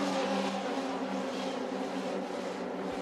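Formula 3 race cars at Spa-Francorchamps through Eau Rouge roar as a dense, continuous high-pitched engine wail, loud and steady with no talk.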